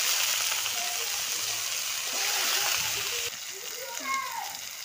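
Tomato and potato dropped into hot oil in a Bengali home kitchen, a steady loud sizzling hiss that shifts partway through as more goes in, with a voice speaking over it.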